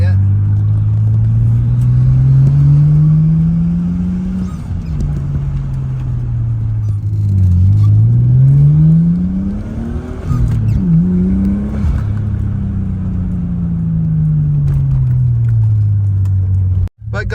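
A Nissan Skyline engine, an inexpensive and rough example, revs repeatedly, its loud low drone rising and falling through several throttle blips before cutting off sharply at the end.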